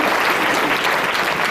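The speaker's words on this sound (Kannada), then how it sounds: "ಜೋರಾಗಿ ಚಪ್ಪಾಳೆ ತಟ್ಟಬೇಕು." Loud, dense clapping from an audience at a spiritual discourse, steady and continuous throughout with no pauses.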